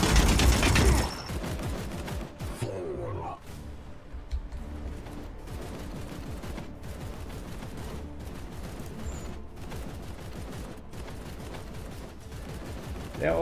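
Support-fire gunfire in the Warhammer 40k: Chaos Gate - Daemonhunters game, rapid rattling bursts of automatic shots repeating in close succession, loud and sustained after an opening blast.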